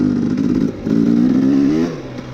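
A Honda CRF150R dirt bike engine revs on a track in two loud, close bursts separated by a brief dip, its buzzing pitch climbing before easing off as the rider shifts.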